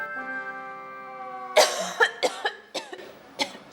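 A person coughs several times in a row indoors, sharp bursts in a quick uneven sequence, close and clear after a few seconds of steady hum.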